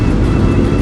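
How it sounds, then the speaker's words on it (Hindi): A motorcycle engine and exhaust hum steadily at close range during a night ride, forming a dense low rumble with no speech. "मेरी बाइक की आवाज़ मुझे अभी कम लग रही है"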